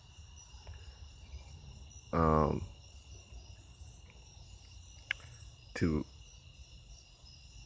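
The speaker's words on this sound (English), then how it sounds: "you can probably hear the crickets." Crickets chirp at night as a steady, faint high-pitched trill that runs through the whole stretch, with a voice briefly speaking over it twice.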